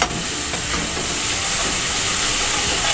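Masala spices roasting in a pan while papaya sabzi is being cooked, giving a steady, close hiss and sizzle that runs unbroken throughout with no talking.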